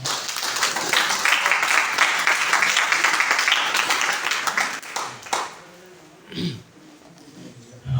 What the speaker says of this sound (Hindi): ताली बजा दो एक बार इनके लिए।